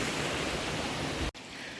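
A stream runs at a trail water crossing in New Mexico near Angel Fire, giving a steady close rushing wash with no voices, broken by one sharp dip near the end before the flow resumes.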